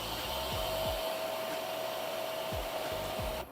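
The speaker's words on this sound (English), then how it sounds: "it runs for about 25 seconds to make sure to get all the dust and debris out of the vacuum and into the dust bag" The self-emptying station of a Eureka Stylus Elite cordless stick vacuum whirs continuously as it empties the dustbin, with a few faint thumps and rubbing sounds at the start and near the end.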